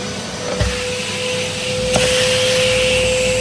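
A household vacuum cleaner suctions water off a floor with a steady motor hum and airy whine, a couple of soft knocks from the nozzle breaking the even drone.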